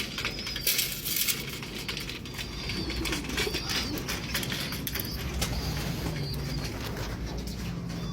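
Racing pigeons coo softly amid steady outdoor background noise, with fluttery bird sounds scattered throughout and no one speaking.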